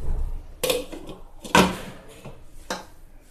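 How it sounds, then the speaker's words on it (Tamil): A lid goes onto a cooking pot of paneer pulao: a few sharp metallic clanks and knocks, close and fairly loud, spaced over a few seconds in a quiet kitchen. "மூடி போட்டு"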